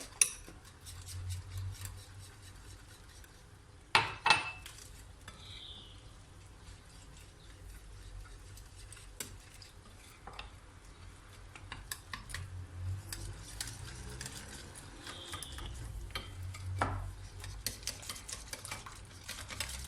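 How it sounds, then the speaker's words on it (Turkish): Spoon stirring flour into crepe batter in a bowl, soft repeated scraping and sloshing close by, with a couple of sharp clinks of utensil against the bowl. "ilk önce 1 su bardağını koyup bir karıştıracağım"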